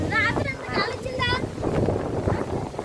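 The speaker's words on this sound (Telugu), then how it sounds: "చూడండి చూడండి ఎంత గాలి వస్తుందో" Strong wind buffets the microphone outdoors in a village where a tree has been blown down, a steady low roar beneath a voice talking over it.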